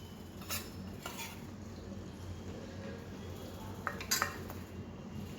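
A metal spoon clinks in a pot as a tablespoon of thick toor dal goes in for batata vada, a few sparse, quiet clinks and scrapes close by.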